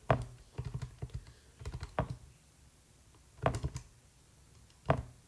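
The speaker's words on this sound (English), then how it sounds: "If you type that into your calculator" Someone punches numbers into a calculator in small clusters of quick, light key taps separated by short pauses, close and fairly quiet, with no talking.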